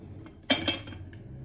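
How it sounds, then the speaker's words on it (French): Leftover dishes and cutlery being put away in a home kitchen: two sharp clinks of metal and crockery a moment apart, close by, over a quiet room hum. "je range juste la vaisselle qui reste là"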